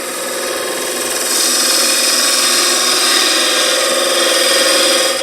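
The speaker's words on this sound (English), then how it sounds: "So that went straight into like a planing cut" A turning tool takes a planing cut on spinning wood, a loud, continuous hissing shear over the lathe's drone, growing brighter after the first second and holding steady.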